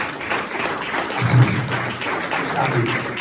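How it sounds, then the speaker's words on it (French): A church congregation claps along at a lively service: steady, fairly loud applause with a voice speaking over it throughout. "Acclamez la bénédiction."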